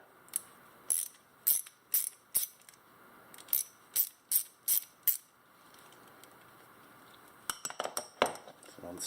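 Ratchet wrench with an 8 mm metric socket backing a small nut off the back of a pin: a run of quick, crisp clicking bursts in an even rhythm, then a pause and a denser cluster of clicks, close and fairly quiet.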